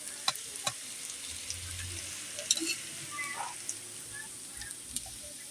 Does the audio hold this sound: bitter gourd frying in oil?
yes